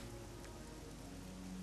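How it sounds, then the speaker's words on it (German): Steady rain patters in a fantasy role-playing game set in a medieval world, a dense even hiss with no voices over it. "Oh, hier regnet es hier rein."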